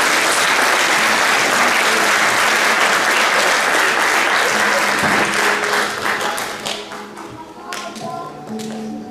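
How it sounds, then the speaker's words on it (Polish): Loud, dense audience applause at an indoor conference celebrating parenthood in Olsztyn, sustained for several seconds before thinning into scattered claps and fading. "Dużo brawa."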